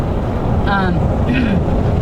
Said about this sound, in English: I did receive some critique or feedback about the engine noise